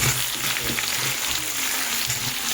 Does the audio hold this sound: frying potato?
yes